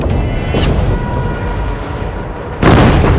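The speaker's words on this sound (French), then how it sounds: "Fire depth charges." Heavy booming underwater depth charge explosions rumble through, a deep muffled blast followed by a second louder burst near the end, over a constant low roar.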